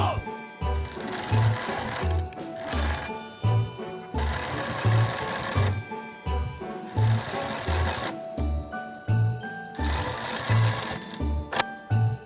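A sewing machine topstitches 0.3 cm from the edge of a fabric cooler pouch in short bursts, each run of fast mechanical whirring stopping and restarting several times up close.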